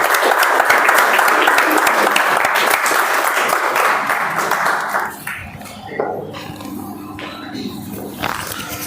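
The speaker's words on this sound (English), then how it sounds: "Please give a huge round of applause." Applause from a morning club meeting audience as an evaluator steps onto the dais, loud, dense clapping that fades after about five seconds, leaving quiet room noise with a few stray claps.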